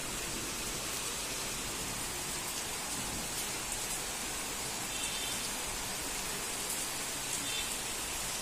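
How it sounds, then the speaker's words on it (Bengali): Steady rain falls outside a house in a green rural setting, a dense continuous hiss of drops on surfaces that holds evenly throughout with no voices. "এই যে এখানে একটু বোঝা যাচ্ছে যে বৃষ্টি হচ্ছে।"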